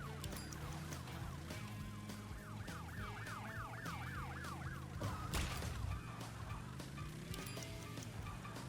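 A police car siren in the video game Crash Bandicoot Warped wails up and down for a few seconds, rising over busy in-game music, engine drone and effects.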